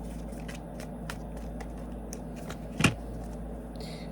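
Soft, rapid rustling of cards being shuffled close by, a steady patter with one sharper snap near the end.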